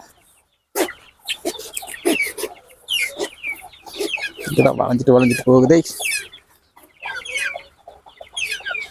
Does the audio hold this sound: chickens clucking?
yes